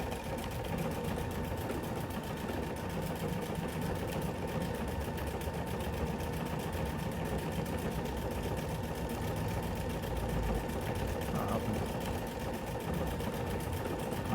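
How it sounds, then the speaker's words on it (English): Sewing machine running steadily at slowed speed while stitching a decorative creative stitch on a cross body bag, a constant close whirring hum with no pauses. "if you slow down your speed when doing a creative stitch"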